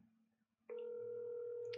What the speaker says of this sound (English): We about to call our homie Fletch